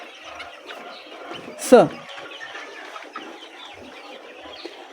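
Chickens on a poultry farm cluck and chatter steadily in the background under a man's speech, with one louder, sharper squawk standing out midway.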